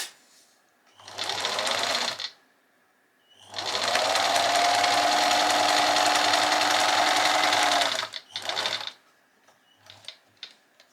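A sewing machine stitches quilt squares in several bursts, one short run, then a long steady whirring run of about four seconds, then brief stops and starts with small mechanical clicks, loud and close.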